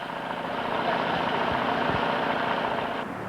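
A newly invented Australian automotive engine runs steadily, a continuous close mechanical hum with a low rumble and a couple of faint knocks, under a noisy old-newsreel soundtrack.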